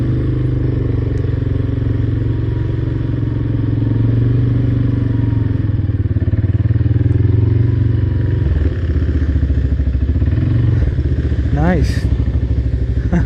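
An ATV rides through flooded terrain in Johor, its engine a loud, close, steady drone throughout, with a brief spoken remark over it.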